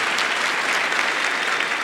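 Dense, continuous applause fills a graduation ceremony at Egerton University, a large crowd clapping steadily and evenly throughout with no voices rising above it.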